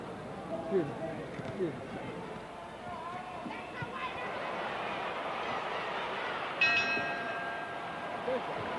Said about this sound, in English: And the bell sounds, ending round 11